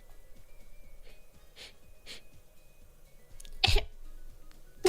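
A voice imitates a baby coughing: a few soft breathy coughs, then one sharp, louder sneeze-like cough near the end, close and otherwise quiet.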